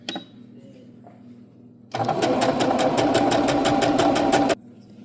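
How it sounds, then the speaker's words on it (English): A domestic sewing machine stitches a straight line on fabric, a quiet hum giving way to a loud, fast, rhythmic mechanical clatter for about two and a half seconds before stopping. "we're just going to try to sew a straight line real fast here"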